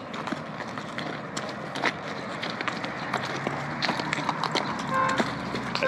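A horse walks on a ride in the Sahara Desert in Egypt, its hooves clip-clopping in an uneven rhythm at close range over a noisy outdoor background, with a faint voice now and then.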